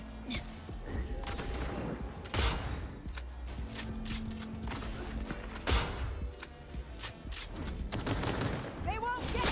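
Bursts of rapid video-game gunfire with mechanical clatter, in a Linux gaming session, heard under steady excited talk and background game noise, moderately quiet.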